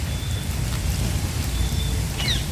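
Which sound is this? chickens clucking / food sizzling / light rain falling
light rain falling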